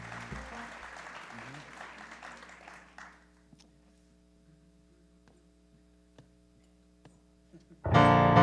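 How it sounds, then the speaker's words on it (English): An audience claps after a song, a dense burst of applause that fades out, then a quiet stretch with low hum, before another loud round of clapping erupts at the end. "So give yourselves a round of applause."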